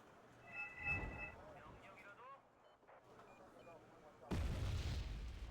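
A CAESAR self-propelled howitzer fires in a tank combat game, a deep booming blast that hits suddenly near the end and rumbles on, after quieter engine and ambient noise with someone talking early on.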